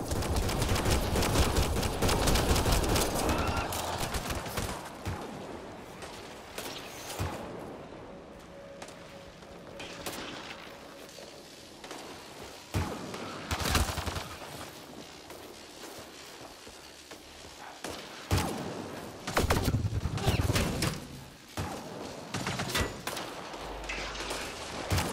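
Heavy gunfire in the video game Mass Effect Andromeda on Habitat 7, with dense bursts of rapid shots and loud blasts coming in waves over roughly twenty-five seconds, interrupted by brief quieter gaps.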